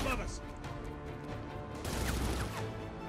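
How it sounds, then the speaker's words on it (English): Gunfire in Batman Arkham City: a dense burst of shots and impacts that thickens near the two-second mark, set under game music and a continuous bed of action noise. "Why are you shooting?"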